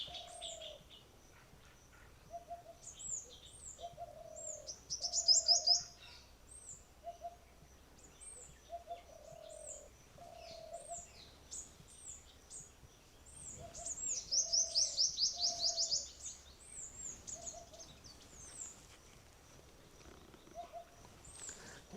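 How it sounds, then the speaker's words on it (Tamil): Small birds chirping and calling in a quiet forest, with bright bursts of chatter rising twice amid steady cooing from doves or pigeons, all at moderate distance with no talking. "சிட்டுக்குருவியோடைய சத்தம் ரொம்ப அதிகமாக கேட்குது"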